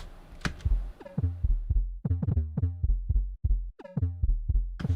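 Unprocessed Serum synth bass patch sounding dry and raw, a series of punchy low plucked notes in an uneven rhythm with buzzy upper harmonics, loud and alone.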